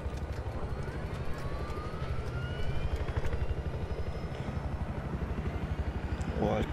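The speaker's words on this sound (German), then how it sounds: "Ab in den Heli." Battlefield 4 game helicopter with rapid rotor thumping and a droning engine, loud and close, heard continuously with a player's voice over it.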